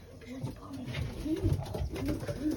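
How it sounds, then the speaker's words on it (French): Pigeons, including a Thai breed, coo softly in repeated low rolling phrases, close by, with some murmured voice-like sounds mixed in. "Franchement, il y a des beaux pigeons."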